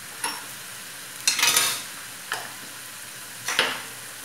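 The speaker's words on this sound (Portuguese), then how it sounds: "E a gente vai fritando." Rice frying in a pan and being stirred, with a soft continuous sizzle broken by four scraping strokes of the spoon across the pan. The strokes are close, and the longest comes in the middle.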